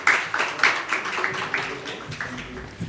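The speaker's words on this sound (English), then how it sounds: "A big round of applause for the opening panel session." An audience at a Dubai fintech conference applauds after the opening panel session. Brisk, dense clapping starts strong, then thins and fades over a few seconds, with no voices over it.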